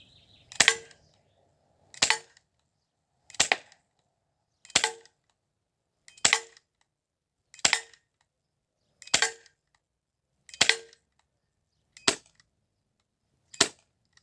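Airsoft replica gun firing at a target about five or six metres away, ten sharp evenly spaced shots roughly every second and a half, close and crisp against near silence.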